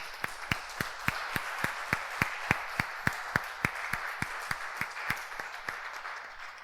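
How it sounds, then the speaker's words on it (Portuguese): A church congregation applauds during a sermon, a dense, steady wash of many hands with a regular rhythmic beat of louder claps running through it, sustained at even loudness without speech. "Quem crê, aplauda o Senhor por isso."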